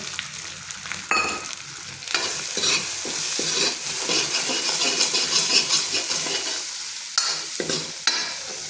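Chili peppers frying in a pan for an okra curry, a steady loud sizzle and hiss with scraping stirs and a few sharp clinks, close up.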